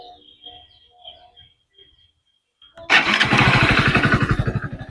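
A Hero Splendor Xtec 2.0 motorcycle, a 2026 model, sits almost silent with faint background sounds before its engine suddenly fires up close by, settling into a loud, steady idle with a distinct rhythmic thump.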